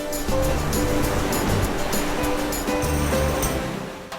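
Powerful waves crash and surge in rolling bursts into natural pools, loud and close, with a continuous roar of churning water and wind.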